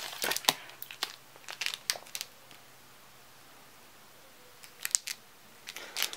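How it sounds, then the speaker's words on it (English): Packaging of a new wireless keyboard being opened: bursts of crinkling plastic and rustling paper come in quick clusters, separated by quiet pauses, close to the mic with no talking. "So this is an unboxing of my new wireless keyboard."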